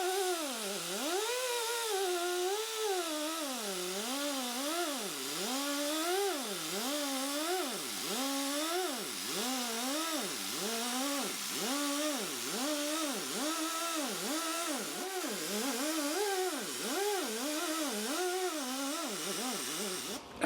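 A power buffer works the neck-to-body junction of a Stratocaster guitar, giving a steady whine that wavers up and down in pitch with repeated passes over about twenty seconds.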